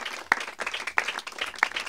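A congregation at a prophet's anniversary celebration breaks into a short burst of dense, close applause, with a few sharper claps standing out.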